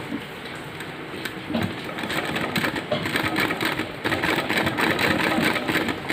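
A sewing machine stitches along a fabric strip for a narrow palazzo pant, its rapid mechanical whirr starting softly then running steadily and louder, close by with no talking.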